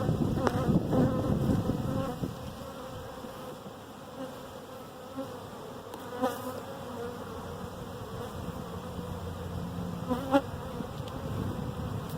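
Honey bees rescued from a tree in Wright City, Missouri, buzz steadily around their opened hive, a dense, close, continuous drone with a few louder passes near the ear.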